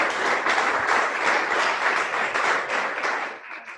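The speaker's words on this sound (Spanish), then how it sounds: "Un aplauso para David por su trabajo." An audience at an October 2019 research presentation gives a presenter a round of applause. Dense, steady clapping fills the room for several seconds, then fades out near the end.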